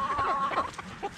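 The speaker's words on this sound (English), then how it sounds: "there are three white baby roosters" Young white rooster clucking in short, repeated calls at moderate volume, close by, with no voices over it.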